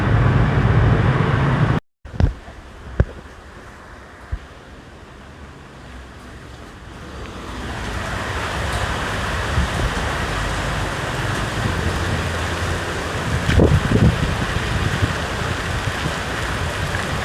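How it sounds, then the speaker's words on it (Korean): Heavy tropical downpour in Ho Chi Minh City, a dense continuous hiss of rain that swells louder partway through, with a few sharp knocks early on. "지금 비 오는 게 보통 많이 오는 게 아니에요"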